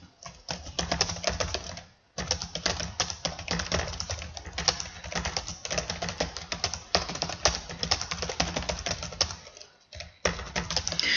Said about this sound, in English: So I'll type in my text.